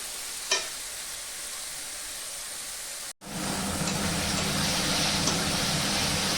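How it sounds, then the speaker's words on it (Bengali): Mutton sautés with spices in a pan as a steady frying hiss, briefly cut to silence, then returning louder and fuller as meat sizzles, with faint stirring, heard close and without voices. "মটনটা মশলাটা আমি খুব ভালো করে কষিয়ে নেব"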